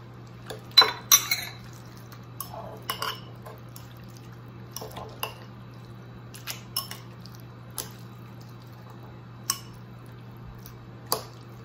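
A utensil clinks and scrapes against a baking dish while stirring baked zucchini noodles, in scattered short taps over a steady low hum, with no talking.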